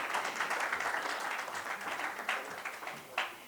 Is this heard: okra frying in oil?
no